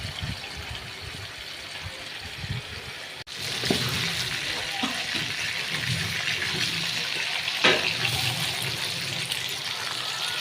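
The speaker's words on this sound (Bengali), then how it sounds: "সাথে মায়ের বাসন দিতেছে এই শব্দ" Tap water runs steadily as a mother washes dishes in a home kitchen, a close, continuous splashing rush with a brief clatter near the start and faint background sounds.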